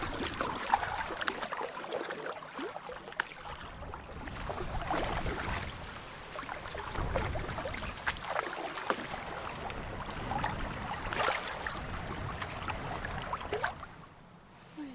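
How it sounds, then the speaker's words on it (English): Canoe paddling on a remote river on a long return leg, with steady, rhythmic strokes and water swishing and gurgling close by through most of the stretch, fading near the end. "The steady rhythm of paddling"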